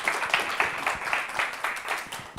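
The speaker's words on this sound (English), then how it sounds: "And an applause for yourself and all the other contestants." Audience applause for contestants at the GO Game Changers awards, a steady wash of many hands clapping with small rhythmic surges, moderately loud and without speech throughout.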